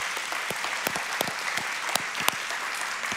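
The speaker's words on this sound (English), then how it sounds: "So just a round of applause for all the dads." A church congregation gives a round of applause for the fathers present, a steady crowd clapping with several sharp, louder individual claps standing out, continuous for a few seconds without talk.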